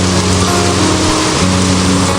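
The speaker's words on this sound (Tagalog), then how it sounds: "Malakas po ang patak ng tubig dito gawa ng naiipon po yung tubig dun sa taas ng trapal." Rainwater collected on top of a tarpaulin spills down in a heavy, constant splashing stream, loud and close with a steady engine-like hum mixed in, no voices.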